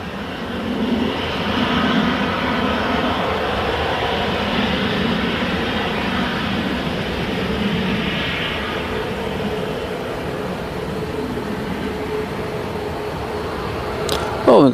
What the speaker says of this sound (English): Oh, we've got a Ryanair that's coming out as well.